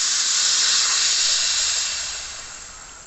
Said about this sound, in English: Now we can press this button to release the pressure.